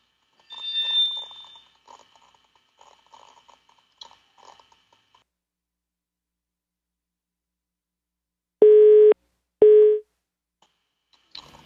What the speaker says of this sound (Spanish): me parece que se cayó la llamada con Carlos Trapani de SECODAP.